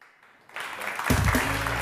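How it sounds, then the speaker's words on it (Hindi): Studio audience applause on a TV morning show swells in after a quiet moment, a steady wash of clapping that builds and continues. "बहुत सारी तालियां."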